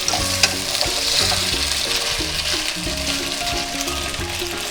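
Shrimp frying with onions in a pan for coconut shrimp curry, a steady close-up sizzle and hiss with occasional stirring scrapes and no talking.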